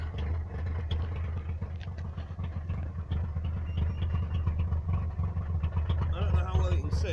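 A Trabant's small engine idles with its exhaust tailpipe rotted off, giving a steady, rough, clattering drone close by at low level, with a faint alarm-like tone near the end.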